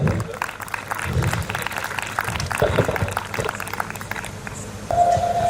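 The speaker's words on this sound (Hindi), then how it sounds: "जोरदार तालियां होनी चाहिए" Audience applause at a JEE Advanced 2022 celebration event, loud, dense crowd clapping mixed with voices, ending with a steady electronic tone.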